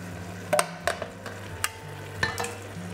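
A spoon scrapes and knocks through Bolognese sauce with crushed tomatoes in a cocotte, making several distinct stirring clacks over a soft background sizzle, with no talking.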